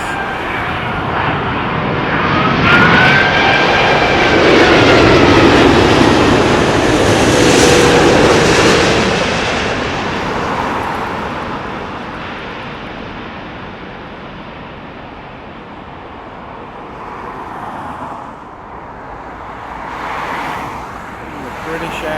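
A British Airways Airbus A380 airliner arriving at Heathrow, its engines giving a broad, loud roar that swells to a peak then slowly fades, with faint voices and distant traffic underneath.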